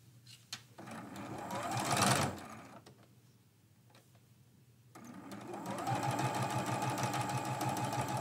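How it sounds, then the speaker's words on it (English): Sewing machine stitching the first two borders onto a quilt, running in steady bursts: a buzzing run, a pause near silence, then a longer continuous stretch of stitching close by, with no talk. "I'm going to sew these first two borders on."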